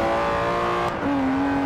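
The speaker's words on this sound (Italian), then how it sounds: "Questo ha un bel motore comunque, eh." A Ferrari engine in the racing video game Forza Horizon 4 holds a steady, loud drone, then briefly dips and settles at a new pitch.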